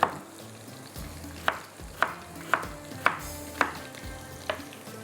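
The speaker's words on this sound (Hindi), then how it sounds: "इसको करेंगे हम फ्राई" Potatoes and peas frying with browned onions in a pan: a steady sizzle runs throughout while a spatula scrapes and knocks in a regular rhythm about every half second, close and without speech.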